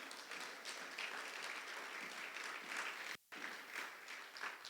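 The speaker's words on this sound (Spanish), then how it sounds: "Denle un aplauso fuerte al Señor." Church congregation applauding in a worship service, a dense steady clapping that carries on throughout, broken by one brief silent gap, with no talk over it.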